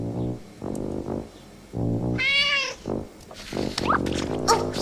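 A cat meows several times in a row, close by, with a higher-pitched mew in the middle; no talking.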